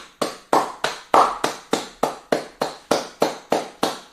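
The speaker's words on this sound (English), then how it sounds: "Big round of applause to all of y'all." A single pair of hands clapping in a steady, even rhythm, about a dozen crisp close claps spaced evenly with nothing else around them.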